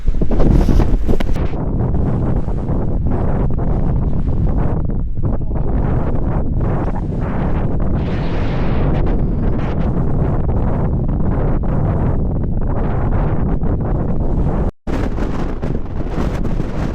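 Strong wind roars across an exposed Lake District fell near Harrison Stickle, a loud continuous buffeting broadband rush hitting the microphone for the whole stretch with brief dips and no talking.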